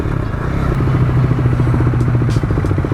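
A KTM 390 Duke single-cylinder engine running steadily while riding, a loud close throb with a rapid pulsing beat and slight rises in revs, with no one talking over it.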